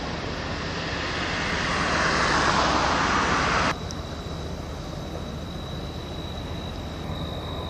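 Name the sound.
car traffic at night near port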